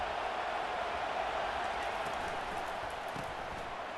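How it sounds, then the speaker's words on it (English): A packed stadium crowd in the College Football 25 video game roars as a constant, dense wash of noise during a third-down defensive stand, with no clear break. "Decibels rising as the crowd gets behind this defense on 3rd down."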